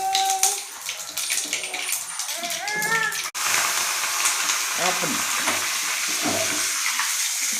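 Mustard and spices tempering in hot oil for a chutney, a loud, steady close sizzle and crackle that swells after a sudden drop, with a stirring spoon and a voice speaking over the start.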